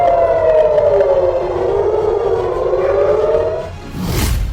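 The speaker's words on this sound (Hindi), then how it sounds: "हर तरफ सायरन बज रहे हैं।" Air raid sirens wail across an Israeli city after rocket attacks, a loud sustained civil defense tone that slowly falls and rises, ending with a burst of broadband noise.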